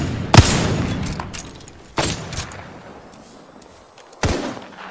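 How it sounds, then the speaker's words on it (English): Three loud, sharp shots ring out in a battle royale video game, each bang trailing off into a decaying echo, spaced about a second and a half to two seconds apart, with no voices. "Oh, I'm getting shot, boys!"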